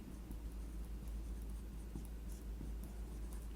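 A pen writes math on paper with a continuous soft scratching under a steady low hum, faint and close, with no voice.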